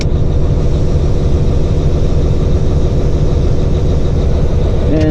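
Heavy haul truck diesel engine running steadily with the PTO engaged, a loud continuous low rumble throughout with a brief higher whine near the end.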